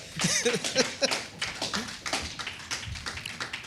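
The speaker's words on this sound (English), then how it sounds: "give her applause" A crowd at a church event applauds with a rapid patter of clapping, fairly loud and steady throughout, with no voices.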